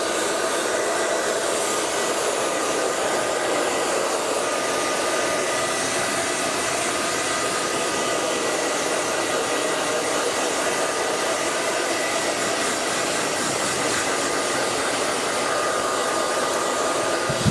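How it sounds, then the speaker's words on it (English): A hair dryer roars steadily as hair is blow-dried with a hand, a loud, unbroken close airflow rush with no talking. "When I blow dry, I normally always blow dry with my hand."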